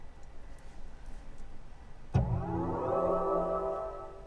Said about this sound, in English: That's what you can hear when you turn the car on.